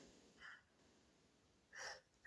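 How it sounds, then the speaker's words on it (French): A single sneeze indoors, preceded by a short sharp intake of breath, fairly quiet against near silence, with a sudden click at the very end. "Alors attention, je vais éternuer."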